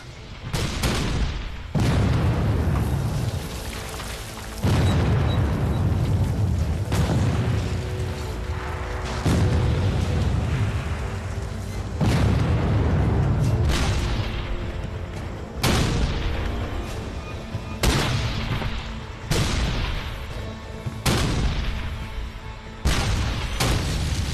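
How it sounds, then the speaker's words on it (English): Heavy artillery barrage from the Battle of Gettysburg: repeated deep, booming cannon blasts about every two to three seconds, each loud and rolling with long low rumbling decay, overlapping into a sustained thunderous roar with no voices. "It's the largest artillery barrage ever in the Western Hemisphere."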